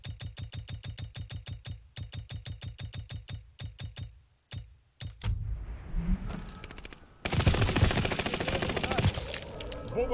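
Rapid bursts of gunfire in the video game Call of Duty: Vanguard, a steady rattling fusillade of shots giving way to denser, louder continuous firing and explosive noise.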